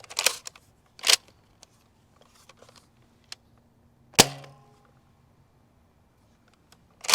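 A Nerf Rival Curve Shot Sideswipe XXI-1200 blaster fires in sharp, isolated snaps, with a few loud cracks spaced seconds apart and a metallic ring after one shot, amid faint handling clicks.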